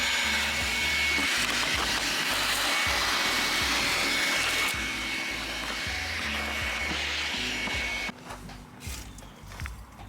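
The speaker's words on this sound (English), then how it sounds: "I just vacuumed under the seats" A vacuum cleaner drones steadily and loud while cleaning a car interior under the seats, with rustling and knocks in the low end, dropping off near the end of the run.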